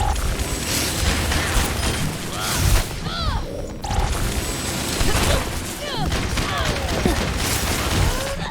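Video game gunfire, bursts of shots and impacts mixed with game effects and chirping sounds, dense and continuous with a brief lull in the middle, with a voice talking over it at times.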